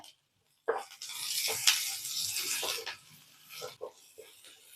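Onions and green chillies frying in a pan, a steady soft sizzle with bursts of crackle and a few stirring clatters, fairly quiet and close.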